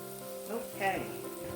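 Sautéed ingredients sizzle and crackle steadily in a pan for homemade macaroni and cheese, a soft, continuous frying hiss with a slight swell in the middle.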